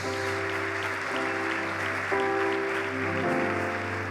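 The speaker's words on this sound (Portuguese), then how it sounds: "Você pode aplaudir o nome do Senhor Jesus" Dense, sustained applause from a church congregation fills the space, steady and loud throughout, with sustained musical tones droning underneath.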